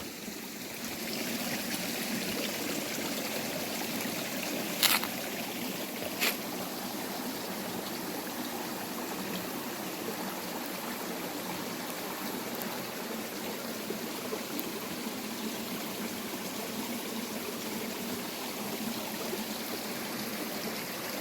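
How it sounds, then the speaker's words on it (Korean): Clear water from a small waterfall stream on rural farmland, a continuous soft rushing trickle at moderate distance, steady and faint with a couple of brief clicks near the start. "작은 폭포같이 이렇게 만들어져 있고"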